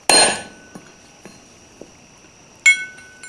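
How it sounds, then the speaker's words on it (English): A brass hammer strikes a bushing that rests on a wooden block during an MGA clutch installation with a machined flywheel. Two loud metallic blows come about two and a half seconds apart, with a few faint taps between them. "My trusty brass hammer. Let's see if we can get her to nudge."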